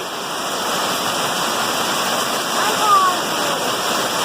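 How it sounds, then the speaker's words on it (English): Heavy rain pouring down outdoors, a loud, continuous roaring wash of water with no breaks, steady from start to finish with a slight swell near the middle. "it's raining really hard"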